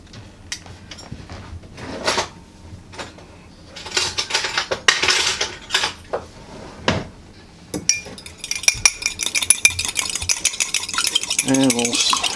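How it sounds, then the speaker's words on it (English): An egg beaten in a cup with a utensil, a run of quick clinking and scraping strokes against the sides, close and fairly loud, with bursts of brisker stirring and no talk. "Beat the egg a little bit."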